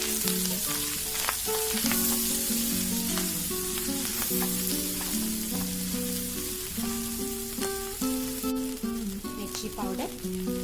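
Ginger garlic paste frying in a pan for a matar paneer curry, a steady close sizzle under a layer of tonal background hum, no speech.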